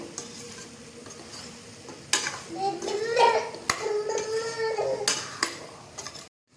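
A spoon stirs chicken curry with salt in a metal pan: close, repeated scraping and clinking over a faint sizzle, with an adult voice and someone talking over it.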